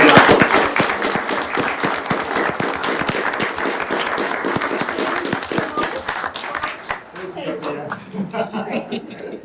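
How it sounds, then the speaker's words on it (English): Audience at a town select board meeting applauding, a dense burst of clapping that fades over several seconds, with voices talking underneath toward the end. "So, round of applause."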